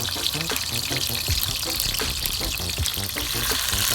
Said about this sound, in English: Let them go and saute in a pot.